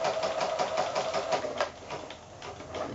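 Sewing machine running a long, large stitch around the curved edge of a strawberry-shaped fabric pin cushion, a steady close rapid mechanical whirr with rhythmic needle clatter that eases slightly toward the end.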